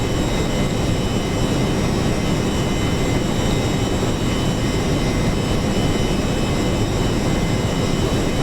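B-1A bomber jet engines spooling up for takeoff in a flight simulator, a loud, constant, dense roar with a steady whine that holds unbroken and sounds close.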